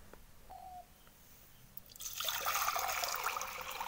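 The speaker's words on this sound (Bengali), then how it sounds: "এর মধ্যে প্রথমে জল ভরে নেব" Water being poured into a container meant for water hyacinths, starting as a faint trickle and then turning into a steady, brighter stream that runs through the final two seconds.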